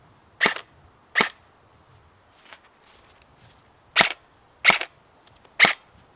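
Airsoft gun dry fired with no attachment on the bare barrel end: five sharp, loud snapping shots at irregular intervals, with a fainter click between them and quiet room background.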